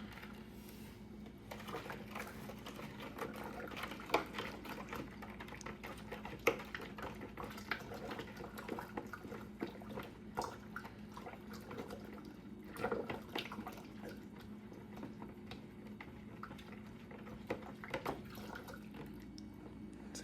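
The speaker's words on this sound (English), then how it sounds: "And then you just stir in the sugar." A spoon stirs sugar into 1.5 litres of hot water for lemon tea, producing faint, irregular scraping and clinking taps against the container that continue for a long stretch.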